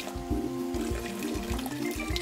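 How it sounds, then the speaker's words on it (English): Water from a tap runs steadily into an apple pie mixture in a kitchen, a close, continuous pouring splash with rhythmic sloshing as it fills, with no talking. "And last, you just want to add some water."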